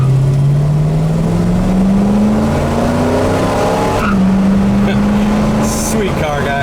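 A 1968 Mercury Cougar with a V8, GT40 heads and a four-barrel carburettor accelerates hard from a start in drive. The engine note climbs loudly, drops at an automatic upshift and then rises again.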